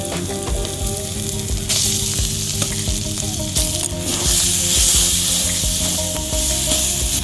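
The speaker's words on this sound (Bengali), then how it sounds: "এবার আমি কচুটা ভালো করে নেড়ে নেড়ে কচুর এই ভেতরে যে রসটা আছে এটা আমি ভালো করে শুকিয়ে নেব।" Taro fries in a spice paste of turmeric and masala with a loud, close, continuous sizzle. Stirring scrapes and rubs against the pan run throughout, with no voices.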